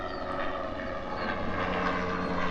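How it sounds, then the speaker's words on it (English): Continuous engine and rotor drone of a helicopter flying overhead, fairly loud and steady throughout, with no voices. "somebody decided to fly their helicopter this morning."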